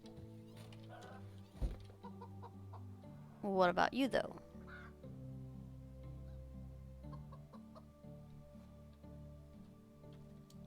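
Chickens cluck in a Medieval Dynasty farmyard, a short burst of rapid, squawky calls in the middle under a low game ambience, with someone speaking briefly over it.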